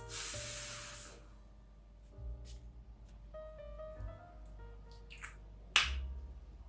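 Perfume atomizer spraying onto wrists, Chanel or Guerlain fragrance: one long close hissing burst at the start, then a quieter stretch and a short sharp spritz near the end.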